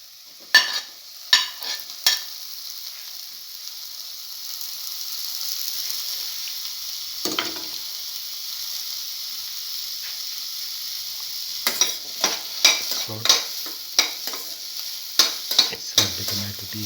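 Tomato pieces fry in a pan for a bottle gourd stew with a thin, steady hiss, broken by bursts of quick stirring clicks and scrapes at the start and again toward the end.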